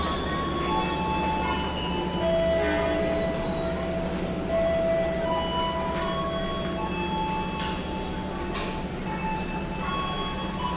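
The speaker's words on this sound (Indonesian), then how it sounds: "Di jalur 2 juga ada kereta api Doho Penataran teman-teman, yang diberangkatkan kembali menuju stasiun Surabaya Kota." The Doho Penataran passenger train pulls out of a station bound for Surabaya Kota. Its wheels squeal loudly and continuously over a steady rolling rumble, with sharp metallic tones rising and falling.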